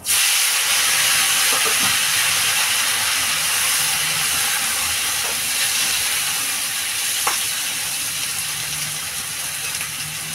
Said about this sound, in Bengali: আমি এবার যে সবজিটা ধুয়ে রেখেছি ঢেলে দেবো।